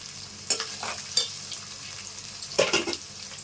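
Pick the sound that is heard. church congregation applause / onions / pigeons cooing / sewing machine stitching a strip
onions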